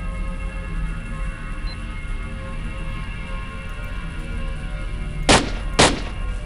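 Two sharp, loud gunshots ring out near the end in STALKER Lost Alpha, a headshot in quick succession over a steady low rumble of engine and ambient drone.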